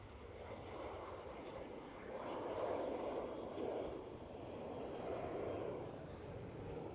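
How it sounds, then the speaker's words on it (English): A KLM Boeing 737-700 airliner departs Schiphol, its jet roar a broad steady rumble that swells and eases over several seconds at moderate distance, with no talking. "Yet again another KLM 737, this time is 700."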